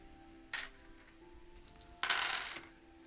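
Tabletop game tokens drop onto a table during a dice game, giving a light clatter, then a louder rattling spill a moment later, close and quiet in a still room.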